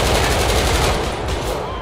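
Rapid automatic gunfire during a police shootout in the video game GTA 5, loud and continuous throughout with dense overlapping bursts.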